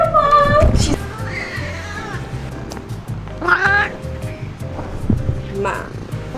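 A pet cat meows a few times in a home, the calls fairly close and mid-loud, while people talk over and around them throughout.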